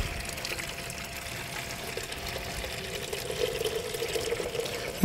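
Water steadily filling a chick waterer, a continuous broadband pour and gurgle running the whole time at moderate level with no talk.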